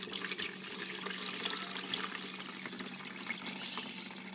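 Chilled hibiscus water, agua de jamaica, is strained in a kitchen, giving a continuous soft splashing and trickling pour, close and fairly quiet, with no talk.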